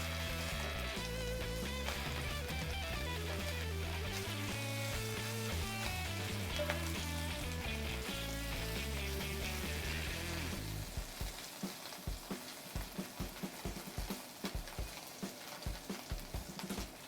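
A5 Japanese Wagyu beef pieces sizzle loudly and steadily in a hot pan, a dense continuous frying hiss that thins out partway through into sharper, sporadic crackles and pops.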